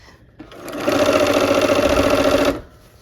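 A sewing machine stitching the last seam of a quilt top runs in one loud, continuous burst of rapid needle chatter for about two seconds, starting up and stopping cleanly.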